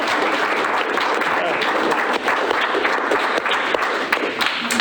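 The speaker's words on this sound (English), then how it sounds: "crowd can clap" A crowd at a city council special meeting claps loudly and continuously after a vote, the sustained applause close and full with a few scattered voices mixed in.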